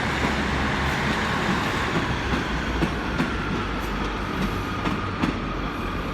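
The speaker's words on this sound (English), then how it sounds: "you got a terminating South Western Railway service now coming in" A South Western Railway train pulls into Exeter St David's station, giving a steady loud rumble with rhythmic wheel clicks across the whole stretch and no voices.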